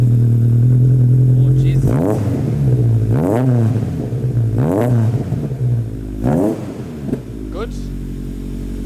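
A Toyota AE86's engine cranks and sputters through several uneven revving bursts with a rough, rattly note from its failing exhaust, while a man exclaims briefly over it.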